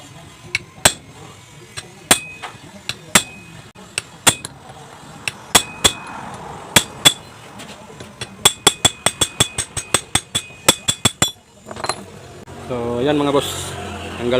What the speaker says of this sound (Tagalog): ang gamit kong pamukpok mga boss is itong bolt na ito mga boss bale 1 inch na bolt